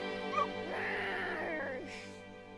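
A dog named Bahamut in the video game Final Fantasy XVI gives a brief high whimper and a soft yip over a steady bed of game music and ambience.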